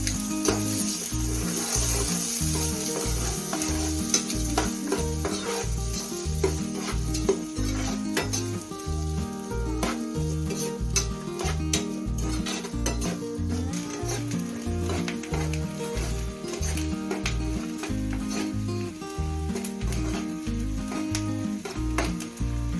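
Cashews, ginger, garlic and onion sauté in a pan for paneer butter masala, a steady close sizzle broken by repeated stirring scrapes, running continuously over a rhythmic background beat with no talking.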